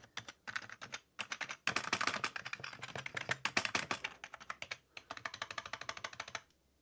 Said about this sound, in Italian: Vi faccio sentire il rumore dei tasti.